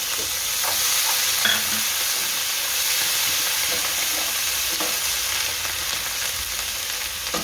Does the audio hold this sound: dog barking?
no